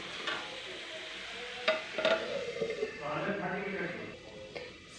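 Soybean and tomato curry stirred in a pan, with scraping and clinking of the utensil against the metal over a low simmering sizzle, a few sharper knocks near the middle, close by.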